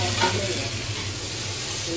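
Food frying in oil in a home kitchen, a continuous close sizzle and crackle with a faint stirring scrape near the start, no voices.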